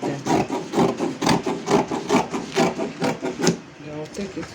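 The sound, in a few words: scissors cutting out fabric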